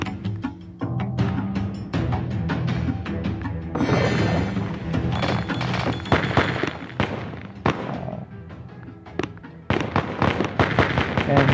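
Grenades go off in a video game as a dense, continuous barrage of booming blasts and crackling debris, loud throughout, with a voice talking over parts of it.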